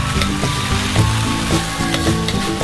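Young papaya stir-fry sizzling in a pan on a stove, a steady loud fry with rhythmic scraping strokes of a spatula stirring about twice a second, no voices.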